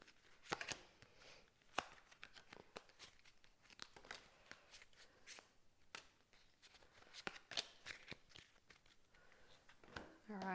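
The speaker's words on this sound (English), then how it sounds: "I can shuffle these ones." Small tarot cards being shuffled by hand in quiet bursts of soft riffling and tapping, close to the microphone, with brief pauses between.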